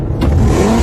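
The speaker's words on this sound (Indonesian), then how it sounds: "ia mengendarai mobil dengan kecepatan tinggi hingga membuat teman-temannya ketakutan" A car speeding hard with its mid-pitched engine revving up loudly and steadily, close and continuous, with no voices.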